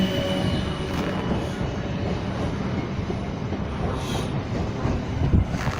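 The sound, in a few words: train passing at Clapham Junction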